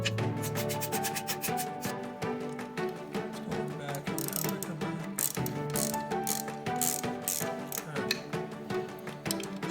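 A socket ratchet tightening a bolt during The Beast Sticks assembly: rapid clicking strokes repeated in quick bursts, close and clear, with no talking.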